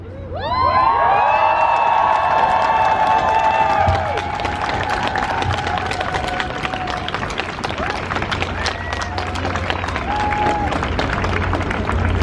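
Loud outdoor crowd at a women's rights solidarity demonstration in Copenhagen, with cheering and whistles that give way to sustained rhythmic clapping and shouts from many people close by.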